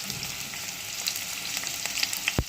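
Onion sizzles steadily in a hot pan while being stirred for a wet cashew curry, a continuous frying crackle with light scrapes and one sharp knock near the end.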